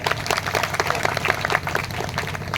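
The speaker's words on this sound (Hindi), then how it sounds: "तो सेवक के लिए जोरदार तालियां पहले।" Loud, dense crowd applause at a GSU team gathering, steady rapid clapping from many hands over a low background hum, lasting the whole stretch without fading.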